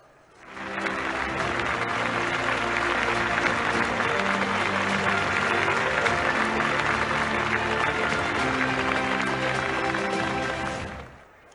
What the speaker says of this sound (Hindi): जोरदार तालियां हम सभी की ओर से